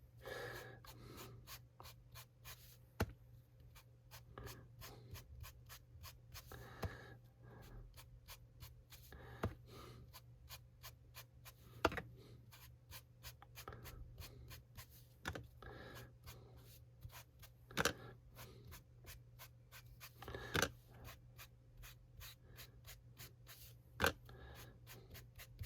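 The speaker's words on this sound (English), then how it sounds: "just stroking and tickling the surface of the card" An ink blending tool strokes lightly across embossed card, making soft repeated brushing scrapes in a steady rhythm, close and quiet over a low background hum, with no voice.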